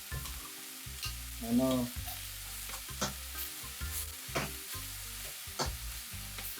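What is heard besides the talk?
beef pieces searing in a pan, being flipped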